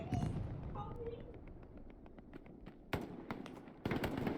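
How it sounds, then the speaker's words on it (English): Distant muffled blasts and scattered gunfire in the World War II shooter Hell Let Loose, capped by two sharp, louder explosive bursts near the end, with a voice talking over the battle at the start. "Was there not a grenade thrown there?"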